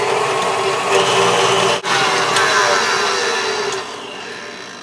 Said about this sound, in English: You need 1/4 cup of softened butter. That is half a stick. Beat it until it's nice and creamy.